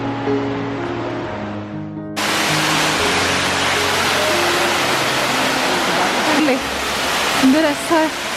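Rushing water from a waterfall in winter in Armenia, with ice along the stream, makes a steady broadband roar that runs throughout; after a brief quieter opening, the flow swells loud and constant, while a person speaks faintly beneath it.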